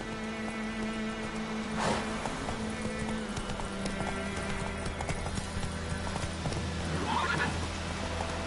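Roach, Geralt's horse in The Witcher 3, clattering hooves in a steady galloping rhythm with loud neighs bursting out twice over the pounding, up close against a low background hum.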